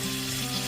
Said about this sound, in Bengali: ওই একই তেলের মধ্যে এবার ফোড়নে দিয়ে দিচ্ছি 1 টিস্পুন গোটা জিরে